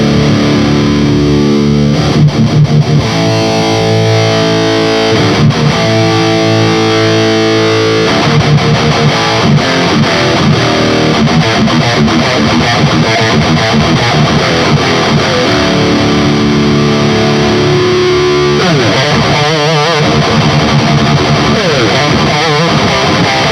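A modded Peavey 5150 II amplifier plays a loud, heavily distorted metal guitar tone while the EQ is adjusted, giving a scratchy, fizzy edge over chugging riffs and sustained chords.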